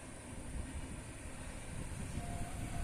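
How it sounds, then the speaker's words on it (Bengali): An express train running from Howrah via Bandel to Burdwan passes far off through open village country near Simlagarh Kalibari at dusk, heard as a faint, steady low rumble with soft rolling noise throughout. "ট্রেন যাচ্ছে হাওড়া হাওড়া থেকে আসছে, ব্যান্ডেল হয়ে বর্ধমান যাচ্ছে ট্রেনগুলো, এক্সপ্রেস ট্রেন"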